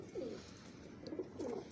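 A pet pigeon named Teddy gives soft, low coos, two or three short rolling phrases close by in a quiet space.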